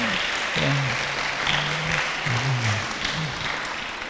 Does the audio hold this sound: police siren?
no